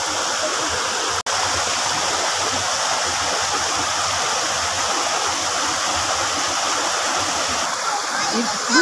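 A forest waterfall pours in a steady, loud broadband rush of falling water that runs unbroken throughout, with one sharp click near the start.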